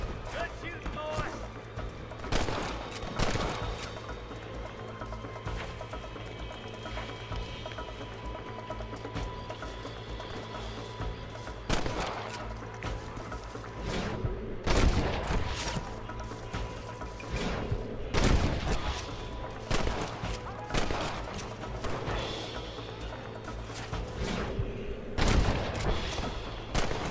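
Rapid gunfire cracks and booms in a shootout in Red Dead Redemption, arriving in repeated bursts over a constant low hum while voices shout and talk throughout.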